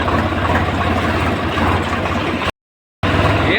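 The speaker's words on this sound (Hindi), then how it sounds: "अब ट्रैक्टर लेके ट्रॉली जोड़ के लाता हूँ पहले" A tractor engine idles with a steady, loud, low rumble that runs on continuously, broken by one brief gap of silence before it resumes.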